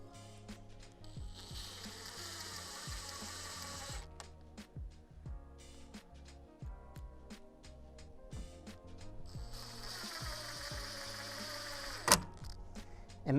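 A powered driver runs screws into the brackets of a garden building's front angle struts, with two long whirring bursts of the motor alongside clicking ratchet-like ticks and a few knocks, close and fairly quiet.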